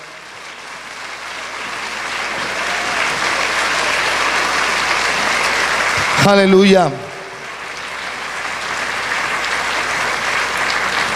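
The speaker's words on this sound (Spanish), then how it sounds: "Más fuerte ese aplauso para el Señor." A church congregation claps for the Lord during a sermon, producing loud, sustained applause that builds and holds, with a brief shouted exclamation from a voice partway through.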